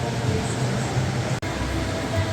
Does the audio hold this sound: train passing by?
yes